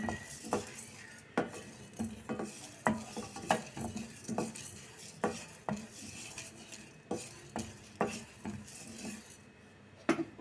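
Dry urad dal is scraped and stirred in a pan with a metal spoon while dry-roasting, a steady rhythm of gritty strokes and clinks, close and fairly quiet.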